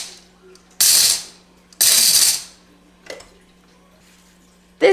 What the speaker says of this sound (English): And then I just pop it in my coffee grinder.